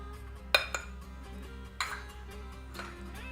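Mixing bowls being swapped while making zmita: a sharp metallic clink followed by softer rattles, and a second knock a moment later, all close and moderately loud over a steady background hum.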